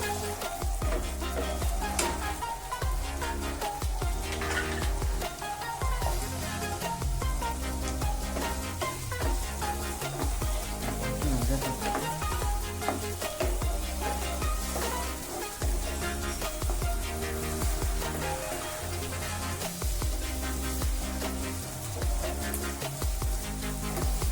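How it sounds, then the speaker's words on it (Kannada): Two small chopped onions fry in two spoonfuls of hot oil for a khova paneer butter kurma, giving a steady crackling sizzle with occasional stirring, set under continuous background music. "2 ಚಮಚ ಎಣ್ಣೆ ಹಾಕ್ತಿದೀನಿ. ಇವಾಗ ಈರುಳ್ಳಿ ಹಾಕ್ತೀನಿ."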